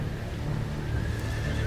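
A horse neighs loudly and close in a video game, a long whinny over a steady low rumble, with no talking.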